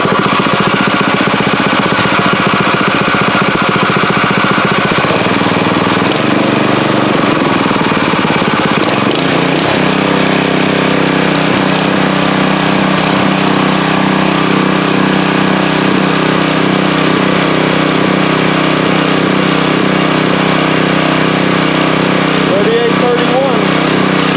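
Loud, continuous engine roar from a mower-mounted leaf and grass vacuum, its blower whine rising as the throttle opens partway through, then holding a steady, dense drone close by.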